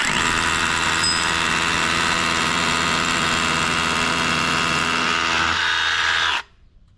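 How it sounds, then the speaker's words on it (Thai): A DeWalt DCH172 cordless rotary hammer drills steadily with a loud, continuous buzzing hammer action for about six seconds, then stops abruptly, with no talking. "คือผมบอกเลยว่าเจาะแบบนี้สบายมากๆเลยนะครับเจาะได้ง่ายมากๆเลย"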